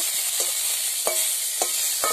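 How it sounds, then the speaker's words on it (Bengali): A steady sizzle of prawns frying in oil in a wok, with a few sharp scraping clicks from stirring now and then. "আমি চিংড়ি মাছগুলো ভেজে নেব"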